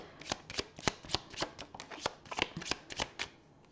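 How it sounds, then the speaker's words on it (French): Tarot cards being shuffled and drawn, a close, steady run of crisp riffling flicks and slaps with no talk. "je vais quand même retirer une carte"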